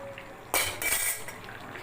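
A utensil stirs chicken curry in a pot, with a sudden clatter and scrape against the metal, a second knock, then quieter bubbling liquid underneath.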